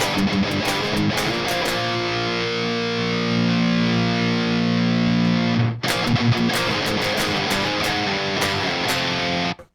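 An electric guitar runs through a Jeff Loomis Devil's Triad drive pedal set to full distortion, loud sustained heavy chords ringing out, a brief cut near the middle, then more driven riffing.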